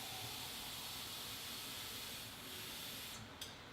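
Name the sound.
food frying in hot oil on induction stove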